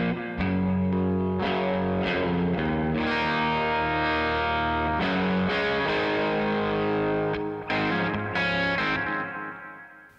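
Electric guitar distorted only by amp gain, no pedals or boosts, tuned down a half step, plays sustained chords and notes, loud and saturated, with ringing sustain and brief pauses between phrases.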